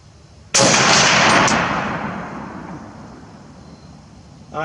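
A single loud M1 Garand rifle shot fired on an open-sight range, a sharp crack that rings out and decays slowly over several seconds, with a faint click at the end.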